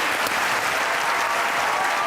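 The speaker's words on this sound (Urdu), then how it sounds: "آپ کی بھرپور تالیوں میں خواتین حضرات سید سلمان گیلانی" An audience claps loudly and continuously, welcoming a poet onto the stage at a comedy poetry show. The dense applause fills the whole stretch with no talking.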